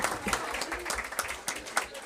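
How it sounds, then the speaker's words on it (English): A room full of people at a school board meeting claps steadily in sustained applause after a student performance, with a voice faintly audible underneath. "Another big round of applause for Ms. McQuain."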